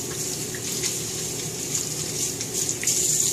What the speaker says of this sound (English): I'm going to wash my hands with the disinfectant soap before I even put on any face wash of any kind